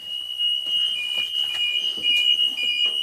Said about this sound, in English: I'm pushing it up, checking the light and buzzer.